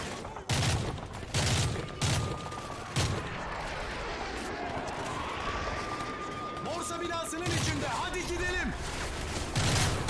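Call of Duty 3 gunfire, repeated loud bursts of rifle and machine-gun shots in a rhythmic fusillade, with a voice speaking between and over the shooting.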